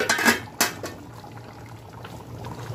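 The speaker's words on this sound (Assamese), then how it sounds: "এতিয়া ঢাকনিখন এবাৰ গুচাই" A metal pot lid clanks as it is lifted off a pan of cooking chitol fish, giving two sharp close clatters followed by a low simmering hiss.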